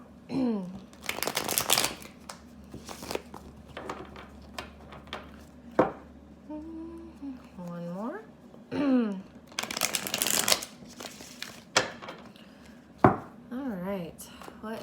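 A thick tarot card deck being shuffled in repeated bursts of riffling and flapping, with brief spoken sounds in the gaps between shuffles.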